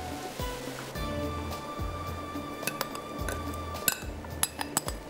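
Chopped onion goes into hot oil in a pan for a cheesy tikka pasta. A steady sizzling hiss runs throughout, punctuated by a series of bright metallic clinks of a utensil against the pan.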